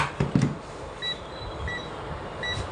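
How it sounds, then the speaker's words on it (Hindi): A multimeter set to continuity mode tests e-rickshaw wiring, giving three short, clear high-pitched beeps spaced about evenly apart after a couple of quick handling clicks, close and alone. "इस पे आ गया बीप साउंड"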